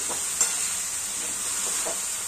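Leafy amaranth greens being stirred with crushed peanut powder in a pan, a soft, steady sizzle with a few light scraping strokes of the spoon, fairly quiet and close, no talking.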